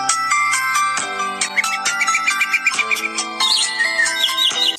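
An Innway Accent smart tracker wallet sounds its phone alert tone, a loud, bright chirping melody of quick repeated beeps and trills, heard alone.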